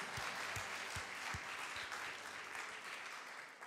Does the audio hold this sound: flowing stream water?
no